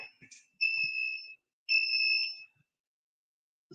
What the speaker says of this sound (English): this alarm be killing me off